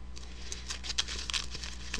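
A deck of playing cards riffle shuffled during a magic chat, a quick run of crisp, close patter and flutter lasting about two seconds.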